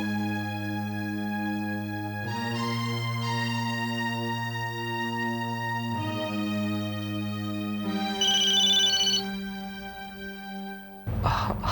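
A phone plays a melodic ringback tone while a call goes through, sustained electronic notes that change pitch every few seconds in a steady repeating tune, ending with a brief sharp click.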